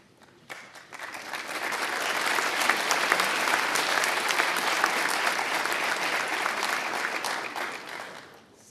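A crowd at a fire academy recruit graduation bursts into sustained applause, the clapping rising quickly after a quiet start, staying full and steady for several seconds, then tapering off.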